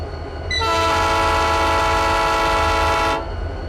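A GP9 diesel locomotive horn in RO-Scale Sandbox sounds one long, loud, steady chord, rising in after a brief low idle rumble and cutting off cleanly about three seconds later, with no voices.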